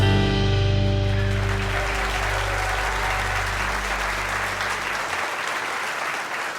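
Studio audience applause greets host Nick Forster at a live eTown radio taping, a full, steady clapping crowd that swells at first and then thins and fades over several seconds.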